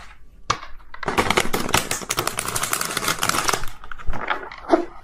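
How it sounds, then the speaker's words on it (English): A deck of tarot cards shuffled by hand in a steady run of dense, crackling riffles and flicks, close and loud, with brief pauses at the start and near the end. "So hard to shuffle this deck."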